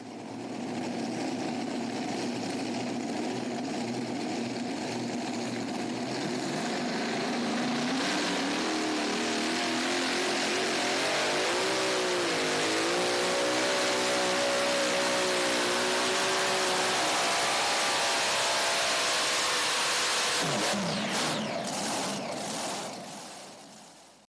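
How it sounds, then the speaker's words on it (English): The War Wagon, an all-new unlimited pulling tractor from New York with a modern frame, roars loud and steady at a night tractor pull, the engine note climbing and wavering as it pulls before cutting off near the end. "this tractor has made some real nice runs"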